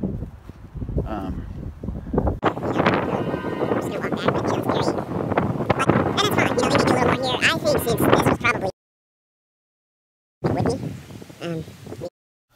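Wind buffets the microphone on a riverside trail with heavy, continuous rumbling gusts, cutting out abruptly to silence and then returning briefly before ending.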